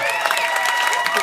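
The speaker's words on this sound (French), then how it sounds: "On peut applaudir le temps que tu sors sur scène" Studio audience applauding on a French-language comedy show, loud continuous clapping and crowd noise with a voice talking over it.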